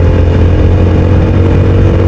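A TVS Apache RTR 160 4V BS6 motorcycle engine pulls uphill with a loud, steady close drone and a rough, wind-buffeted rumble throughout, with no change in pitch.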